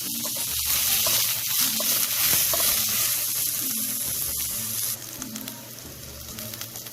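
Crushed garlic and slit green chillies sautéing in oil in a pan for an egg drop curry, giving a steady close sizzle with light stirring scrapes and no talk.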